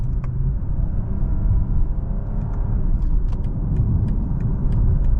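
A 2020 BMW 740i in sport mode with manual transmission mode engaged: a steady, low engine and road rumble from inside the cabin, with a few faint clicks and ticks on top.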